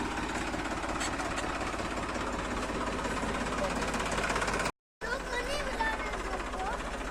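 A tractor sitting stuck up on bricks runs with a steady, rhythmic engine chug close by, briefly cut off by a dropout before resuming, with talk faintly under the engine.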